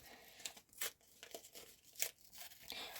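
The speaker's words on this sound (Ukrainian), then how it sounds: "тому нам треба якось відкривати цей пакетик" Small paper surprise packet, glued shut, being torn open by hand: a series of short crinkling rips and rustles in irregular bursts, close and fairly quiet, with no talking.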